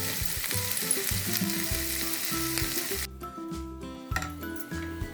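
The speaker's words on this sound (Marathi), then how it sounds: "लसूण थोडंसं परतून घेऊया याला" Garlic sautéing in a pan for baby corn chilli gives a loud, steady sizzle close up, broken near the middle by a brief drop and a few clinks of a utensil against the pan.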